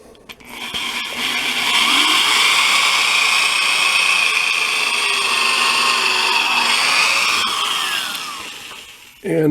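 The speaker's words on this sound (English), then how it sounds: "So I'm going to drill." A power drill whines loudly and steadily for several seconds as it bores into wood, pitch drifting slightly, then winds down and stops.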